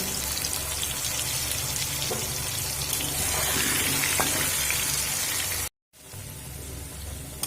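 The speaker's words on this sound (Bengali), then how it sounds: "লবণ আর হলুদ দিয়ে মিডিয়াম ফ্লেম করে ভেজে নেব আর এমনভাবে ভাজবো আলুগুলো" Potatoes frying with salt and turmeric in a pan over a medium flame, a steady broadband sizzle that runs loud and continuous, cuts out briefly near the end, then resumes.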